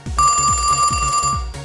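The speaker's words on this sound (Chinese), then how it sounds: "你看，订购的电话络绎不绝哦。" A telephone rings repeatedly on an order hotline during a televised home-shopping segment, its bell pulsing in quick, even bursts over a steady electronic tone, loud and close with no talk.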